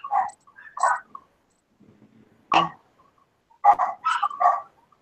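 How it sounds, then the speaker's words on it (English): Several dogs barking at the door of a home, heard in irregular bursts of barks with short quiet gaps, moderately loud and close, with no talking. "But my husband Tom, can you tell all the dogs are at the door barking?"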